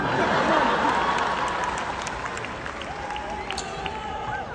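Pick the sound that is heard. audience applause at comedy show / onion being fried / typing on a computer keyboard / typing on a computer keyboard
audience applause at comedy show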